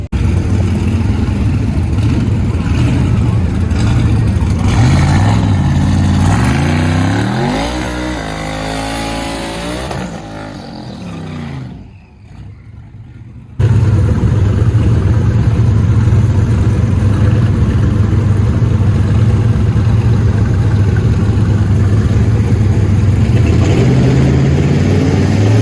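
A 2019 Camaro ZL1 makes a quarter-mile drag racing qualifying pass: a loud, sustained engine roar with rising revs and gear changes, a brief drop to near silence mid-run, then the steady heavy engine drone resumes close by.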